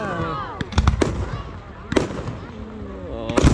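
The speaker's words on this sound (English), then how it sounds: "So much fireworks!" Loch Sport fireworks burst in loud, sharp bangs, a cluster near the start, another around the middle and one at the end, with excited voices shouting and cheering between the blasts.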